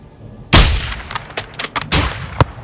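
A sniper rifle shot in Call of Duty Modern Warfare 2 cracks loudly and close, followed by a rapid scatter of sharper shots and a final distinct bang, with reverberant tails.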